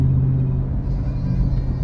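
Car driving down the road, a steady low rumble and whir of the engine and tyres from inside the cabin, continuous and even with no talk.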